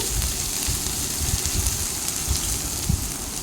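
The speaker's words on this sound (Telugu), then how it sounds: "అలాగే కొద్దిగా అల్లం ముక్కలు వేసుకోవాలి" Ginger pieces sizzle in hot oil as a tempering with dried red chillies, for a puri and mutton curry, making a steady, dense crackle with scattered louder pops, close and continuous throughout.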